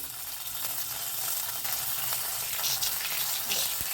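Ginger paste added to hot oil with whole cumin seeds gives a steady, close, bright sizzle with a few faint clinks.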